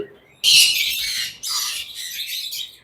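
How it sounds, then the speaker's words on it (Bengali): A red Moluccan lory parrot lets out two harsh, loud squawks close by, the first longer and the second broken into ragged bursts. "দুইটাই ফিমেল পাখি রেড মোলাক্কান লরি"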